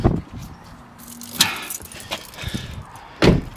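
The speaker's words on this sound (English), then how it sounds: "that's a bunch of keys, isn't it?" A bunch of car keys jangles in a few short metallic bursts, close to the recorder, with a quiet gap between the jingles.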